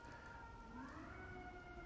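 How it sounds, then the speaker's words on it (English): An ambulance siren wails faintly outside, its steady rising-and-falling tones heard at a distance through a quiet room. "Hold on, little ambulance."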